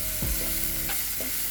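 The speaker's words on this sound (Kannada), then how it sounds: "ಉಳ್ಳಾಗಡ್ಡಿ ಹಾಕೊಂಡು ಫ್ರೈ ಮಾಡ್ಕೊರಿ. ಹುರಿರಿ ಚಂದಗೆ ಕಲರ್ ಬರೋ ಮಟ್ಟ ಫ್ರೈ ಮಾಡ್ರಿ." Onions fry in a pan with a continuous bright sizzle, while a few short scraping stirs and knocks of a utensil break through over the hiss.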